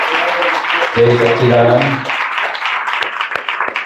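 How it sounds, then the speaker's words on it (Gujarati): At a Dada Bhagwan satsang, a spoken greeting gives way to an audience clapping for the school staff, a dense patter of many hands that builds in the last couple of seconds. "આખા સ્કૂલના સ્ટાફ માટે એક વખત જોરદાર તાળી વગાડો."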